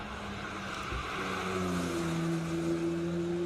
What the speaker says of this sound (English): Just left the starting line is Mark Kirk with his Porsche GTS.